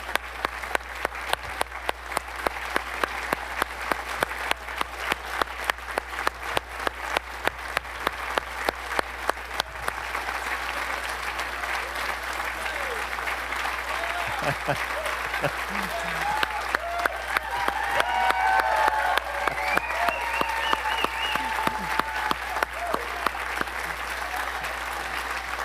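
A crowd at a D-Day anniversary commemoration claps for World War II veterans, starting with a few distinct claps that swell into sustained, dense applause; some voices murmur and call out beneath it.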